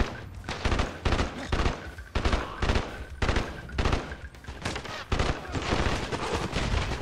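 Rapid bursts of gunfire from the PS Vita game Call of Duty: Black Ops Declassified, with repeated loud shots in uneven clusters and brief gaps, forming a continuous firefight.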